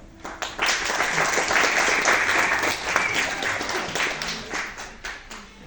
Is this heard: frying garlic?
no